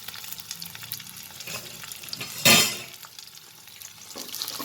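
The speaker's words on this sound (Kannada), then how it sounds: "ಸ್ವಲ್ಪ ಹಸಿ ವಾಸನೆ ಹೋಗೋ ತನಕ ಫ್ರೈ ಮಾಡ್ಕೊಳ್ಳೋದು." Spices including coriander frying in about a tablespoon of oil in a pan for gobi butter masala, a soft steady sizzle with stirring scrapes and one brief louder burst midway.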